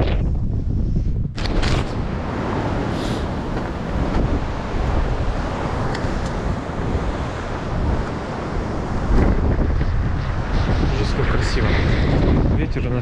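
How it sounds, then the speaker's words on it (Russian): Strong wind roars continuously during a blizzard and hurricane-force storm in North Ossetia, buffeting the microphone with loud, gusty rumble throughout, alongside sea-like surging. "ветер у нас сегодня прям дует весь день"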